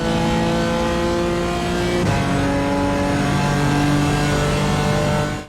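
BMW M4 GT4 race car at full throttle in iRacing at Okayama, a loud continuous engine roar climbing in pitch, with a brief gear-shift dip before it revs up again.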